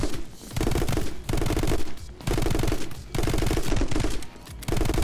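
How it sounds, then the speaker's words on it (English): Rapid bursts of gunfire from the shooter game My Friend Pedro, fired steadily at a boss in loud sustained volleys broken by brief pauses, with background music and no talking. "Constantly shooting at her."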